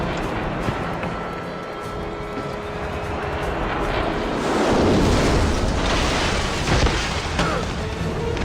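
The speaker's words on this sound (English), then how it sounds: "Helicopter inbound." Helicopter approaching in a video game amid combat, a heavy rumbling engine roar that grows louder and closer over several seconds, mixed with booming blasts.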